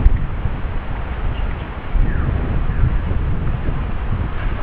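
Strong wind on a beach in Lian, Batangas, Philippines buffets a microphone with a continuous low roar and gusty rumble, no voices heard.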